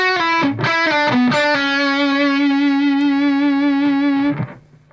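Electric guitar with heavy distortion plays a Mixolydian lick over a dominant seventh chord: a few quick picked notes, then one long sustained bending note ringing out before cutting off, alone and close.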